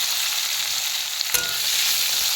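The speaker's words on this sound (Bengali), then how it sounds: "ওই তেলে একটু জিরা ফোড়ন দিয়ে দিচ্ছি, দিয়ে আলুগুলো দিয়ে দিচ্ছি। ভালো করে আলুগুলো ভেজে নেব" Potatoes frying in oil tempered with cumin seeds, a dense, bright, continuous sizzle close by, with a brief sharp clatter partway through and no voices.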